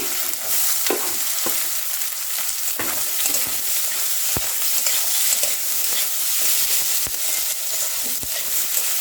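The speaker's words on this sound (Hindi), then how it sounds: "अब इसमें कटी हुई प्याज डालेंगे, तो ये हमने कटी हुई प्याज डाल दी।" Chopped onions with chillies sauté in a pan for baingan bharta, giving a bright, steady sizzle broken by frequent scraping and clicking strokes of a stirring spoon, close and without voices.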